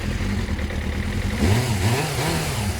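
A Suzuki Bandit 400 motorcycle engine runs close by with a steady low throb, then revs up and down in a couple of quick blips before settling back.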